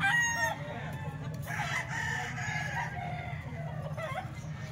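A rooster crows nearby, its long call rising and falling across the middle of the clip, with faint clucking and low background noise around it.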